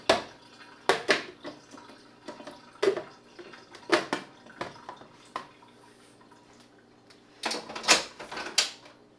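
Water from a kitchen tap rinses blender blades, with irregular splashing bursts and clatters of the blades against the sink, heard up close with no talking.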